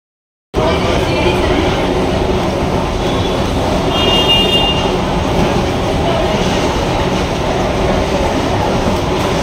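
A train at a railway station fills the scene with a loud, steady rumble and clatter that runs unbroken from start to finish, with faint voices mixed into the din.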